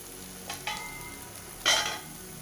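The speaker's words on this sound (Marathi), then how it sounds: "छान हा मसाला पण आपल्याला 1 मिनिटभर परतून घ्यायचा आहे." Masala paste sautés in a pan for a whole masoor amti, a quiet sizzle with two short bursts of stirring and scraping, no voices present.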